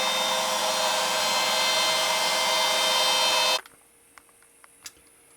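A CNC router with a 1/4 inch ball nose bit hums in a loud, steady whine while carving a wood hunting scene, then stops abruptly, leaving faint clicks and quiet ticks.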